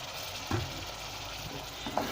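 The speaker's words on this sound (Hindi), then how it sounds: "अभी इसको हम भूनेंगे ताकि ये जो थोड़ा सा केवड़ा वाटर हमने डाला है वो भी इसमें अच्छी तरह से खुश्क हो जाए" Bottle gourd halwa laced with kewra water roasting in a pan, a low steady frying hiss broken by a few soft spoon scrapes and taps of stirring, fairly quiet.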